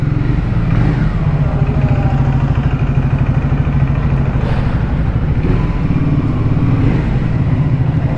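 A Triumph Tiger 850 motorcycle arriving for service gives off a loud, close engine rumble that holds steady and unbroken throughout, with no talking.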